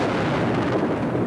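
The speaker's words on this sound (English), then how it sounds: "You will hear those explosions now." Explosions during the bombing of Baghdad thunder as a dense, continuous low rumble that fills the whole moment, heavy and distant-sounding, with no voices over it.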